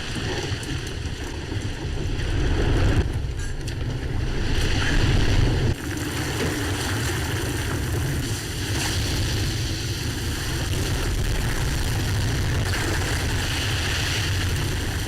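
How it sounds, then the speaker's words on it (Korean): Big storm waves crash around a capsizing boat, a loud continuous roar of surf and rushing water with heavy wind buffeting, swelling between roughly two and six seconds, with no voices. "다시 한번 큰 파도와 함께 배가 전복됩니다"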